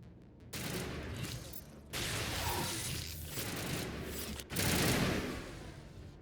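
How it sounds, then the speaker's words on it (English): Guns blaze in a Mass Effect firefight against the Geth on the way to Feros, sustained rattling fire in three loud stretches separated by brief drops, with explosive swells and no talk. "How is a woman supposed to think with guns going off all around?"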